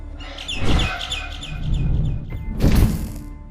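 Birds chirp in a rapid string of high tweets in the video game Garten of Banban 6, close and clear, followed by a couple of heavy thuds.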